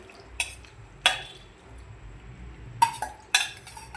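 Boiled drumsticks (moringa pods) drop into masala in a cooking pan, making several sharp clanks and clatters spaced a second or so apart, close and fairly loud, with no voices.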